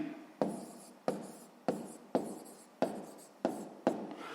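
A pen writes a math answer by hand on paper, giving seven rhythmic scratchy strokes, each starting sharply and trailing off, close and clear with no talking.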